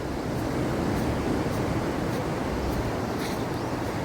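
Strong sea waves on a beach on Siquijor Island make a constant, loud wash of surf, a broad steady roar close by, with wind buffeting the microphone and no talk.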